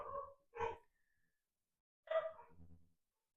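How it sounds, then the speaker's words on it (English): A few distant dog barks and yips, two quick ones then a short whining bark after a pause, faint against a quiet room. "Excuse the dogs barking."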